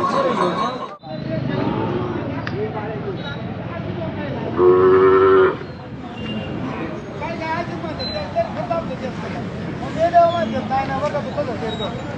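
Cattle at the Monday bullock market in Belhe, with a loud close moo midway through a continuous crowd hubbub, someone talking over the noise of the market.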